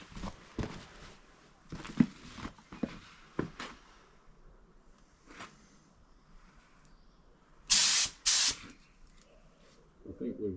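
Short spray-can bursts hit a fibreglass bumper for a 1992 Nissan 300ZX twin turbo, coming as brief close hisses with two stronger ones near the end, amid handling noises and someone talking.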